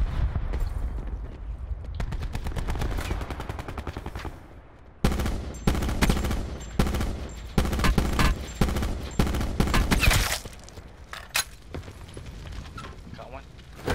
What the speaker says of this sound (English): Getting shot from behind and in front.